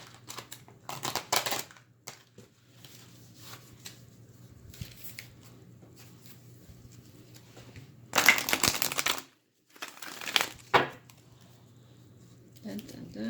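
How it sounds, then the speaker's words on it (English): Oracle card deck being shuffled, soft patters and riffles with a few louder bursts of cards snapping together, close and fairly quiet, with low background hum between them. "So just give me just a second to shuffle this Oracle deck."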